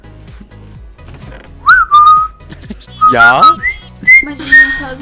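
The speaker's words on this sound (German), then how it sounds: "Bitte nicht pfeifen!" A person whistles in short, rising and falling melodic bursts, loud and close over a steady rhythmic game soundtrack, with a brief spoken word partway through.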